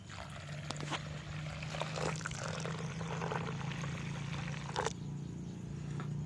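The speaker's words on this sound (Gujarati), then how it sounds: "હવે આપણે આમાં નાખશું પાણી" Water pours and trickles into a metal pan of gravy with salt and crushed green chillies, a soft continuous splash with a few brief clinks.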